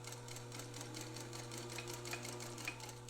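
A Singer Featherweight sewing machine stitches steadily, a quick even run of needle clicks over a constant motor hum, close and fairly quiet.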